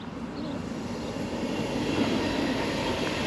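A Swiss InterCity train passing at speed near the village of Wangen makes a continuous loud rumble and rushing roar, with no speech.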